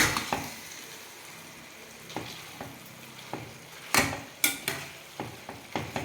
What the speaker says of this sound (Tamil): இப்போ அடுத்த சைடு இந்த சிக்கனை அப்படியே ஒரு பிரட்டி விட்டுலாம்